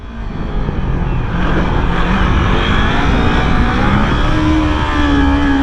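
A motorcycle, a 400, revs steadily during a wheelie with light dips on the foot brake; the close engine drone holds strong and continuous throughout, with no talking.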